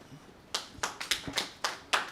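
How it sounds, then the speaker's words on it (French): A handful of people at a Peace Day celebration clap for a guest, sparse, separate claps with uneven gaps, fairly close and not very loud. "Je vous prie, mesdames et messieurs, de l'applaudir."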